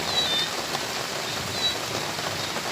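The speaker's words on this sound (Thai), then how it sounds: "ฝนตกฟ้าห้องค่ะ" Rain falls steadily on surfaces outdoors, a constant close hiss of drops with faint scattered taps, unbroken and without voices.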